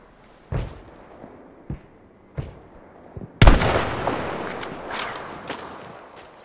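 Gunfire in Battlefield V: a few sharp isolated shots ring out over quiet, then a loud burst opens into a dense rattle of continuing fire and echoing bangs.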